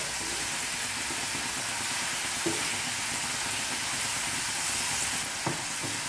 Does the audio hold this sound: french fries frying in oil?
yes